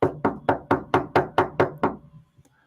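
Eight firm, evenly spaced knocks on a door, close and resonant with a steady rhythm, then a faint rustle and a couple of soft taps as it settles; no talking.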